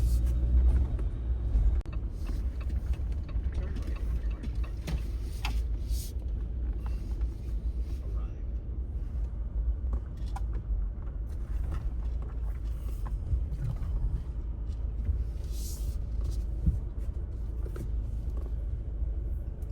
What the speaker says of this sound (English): getting ready to go through the Breaking Bad car wash